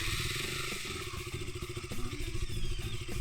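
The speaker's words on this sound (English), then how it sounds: "start the bike." A motorcycle engine runs at a steady, slightly uneven idle with a mechanical clatter, close and continuous for a few seconds with no voices.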